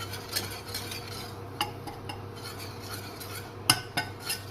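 A wooden spoon stirs flour into melted butter in a pan to make a roux for white sauce, with soft continuous scraping, a few light knocks against the pan, and a low steady hum underneath.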